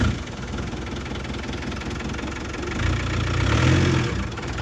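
Land Rover Defender engine idling close by, a steady low rumble that swells slightly in the second half.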